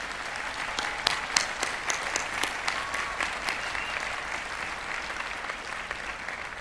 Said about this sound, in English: please join me in a well-deserved round of applause for your family and the Miami University